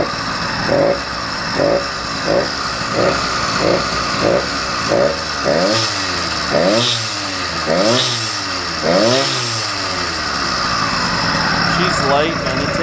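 An 80cc two-stroke motorized bicycle engine runs near and loud, its pitch repeatedly swooping up and down in a pulsing series of revs, with a steady buzzing drone underneath.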